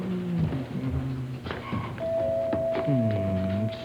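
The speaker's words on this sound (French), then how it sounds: "une sonnette le matin, j'haïs ça" A doorbell chimes in a home in the morning, a steady electronic tone sounding near amid kitchen clatter and thumps, with voices around it.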